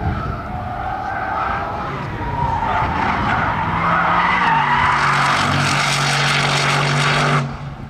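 An Aston Martin Valkyrie drifts on a racetrack with its tires skidding: a long, continuous screech over a steady engine roar that builds in pitch and cuts off near the end.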